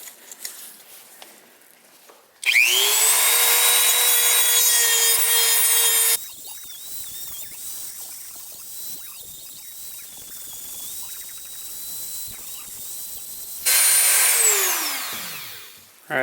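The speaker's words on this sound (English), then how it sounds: "at this point we should be able to just kind of grind it like that" Rotary tool grinding a plastic GoPro housing, two loud bursts of shrill whining separated by a quieter stretch of scratchy rubbing, with the tool spinning down at the end.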